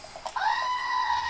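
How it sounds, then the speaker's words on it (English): A goat bleats once, a drawn-out wavering cry that rises and holds for about a second, loud and close, with no talking over it. "What's the goat say?"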